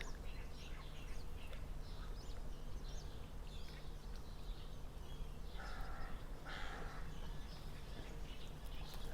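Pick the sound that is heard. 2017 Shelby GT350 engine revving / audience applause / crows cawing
crows cawing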